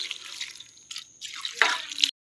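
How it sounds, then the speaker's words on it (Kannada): Water poured into a pan of raw jackfruit palya for cooking, heard as a few short, close bursts of splashing and trickling with brief pauses, ending abruptly. "ಬೇಯಲಿಕ್ಕೆ ಬೇಕಾಗುವಷ್ಟು ನೀರು ಹಾಕುವ."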